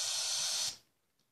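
Noise from the first oscillator of a Korg DSN-12 synthesizer, a loud, bright, steady hiss lasting under a second before cutting off abruptly and fading out.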